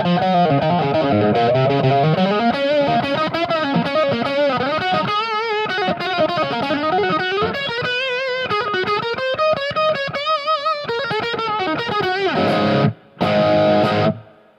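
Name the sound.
electric guitar through Positive Grid Spark 40 amp with overdrive pedal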